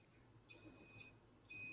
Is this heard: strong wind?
no